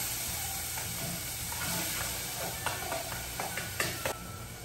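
Rice frying in a pan with hot pepper, onion and green herbs, a close crackling sizzle broken by sharp scraping clicks from stirring that grow more frequent toward the end.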